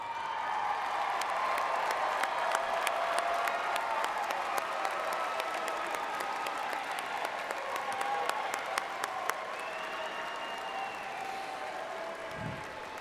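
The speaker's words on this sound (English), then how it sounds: "Will the graduates please stand if you are able and give them a round of applause." A commencement audience for a College of Health and Human Sciences graduation gives sustained, dense applause with scattered claps and light crowd noise throughout.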